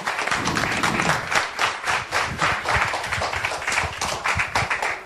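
Steady, fairly close applause from an audience at a children's reading competition final, a dense patter of many hands clapping continuously throughout.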